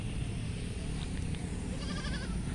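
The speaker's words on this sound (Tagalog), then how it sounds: "Yung kambing, baby goat." A baby goat bleats in a grassy field among continuous loud outdoor noise, its calls faint and partly masked by the dense background.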